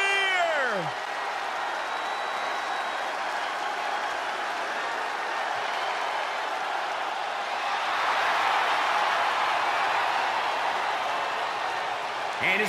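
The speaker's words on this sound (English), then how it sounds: "Listen to this crowd, guys." A wrestling arena crowd roars in a continuous, dense wash of cheering and clapping that swells slightly midway, with an announcer talking over it.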